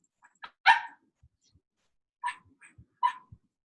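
A small dog barks in the background, a few sharp, high yaps in two short bursts separated by a pause, fairly faint and distant with no talking over them.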